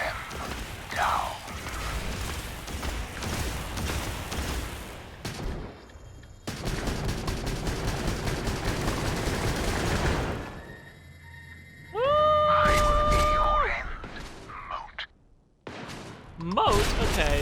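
Gunfire in the video game Starfield, repeated rapid bursts of automatic shots in long volleys mixed with mechanical and sci-fi effect tones, loud and close, with voices speaking between and over the shooting.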